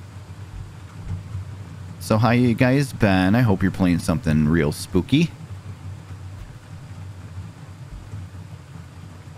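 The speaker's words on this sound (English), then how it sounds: "Feels like a thunderstorm's going on outside, that's for sure." Low rumbling rain and thunderstorm ambience from the horror game 2000 Navidson Lane runs steadily in the background, with a person talking over it partway through.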